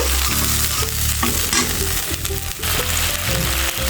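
Water poured onto fried spice paste in a pan for a fish curry with taro stolons, producing a loud, dense hiss and crackle that holds steady throughout, close by, with no voices.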